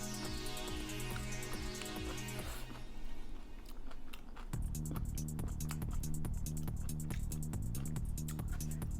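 Someone eating red snow crab with kimchi, close crunchy bites and wet chewing repeating in a quick rhythm throughout, with soft clicks and squishes up near the mic.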